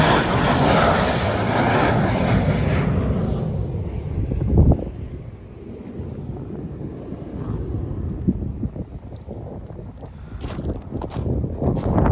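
Aircraft at an aerodrome beside the Gloucester jet museum: a loud broad jet-like roar with a whining tone that fades over several seconds, followed by steadier, lower rumbling and wind.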